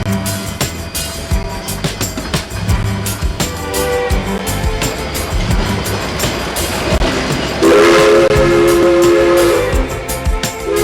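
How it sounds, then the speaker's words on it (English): Durango & Silverton narrow gauge steam train rolling along with a steady rumble and clatter of wheels, then a loud, sustained whistle blast near the end, close and dominant. "The engineer gives 2 blasts of the whistle."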